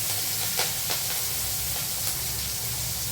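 Chili, curry leaves, turmeric and spices sautéing in hot oil for a spicy squid curry give a steady close sizzle with faint scattered pops, no talk.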